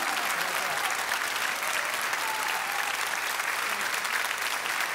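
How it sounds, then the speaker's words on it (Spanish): Dense, steady applause from a concert audience after a tango ballad performance, sustained and even throughout with no talking. "Fuertísimo ese aplauso"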